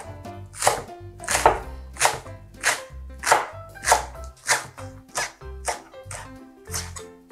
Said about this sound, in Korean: 쫑쫑 썰어줍니다.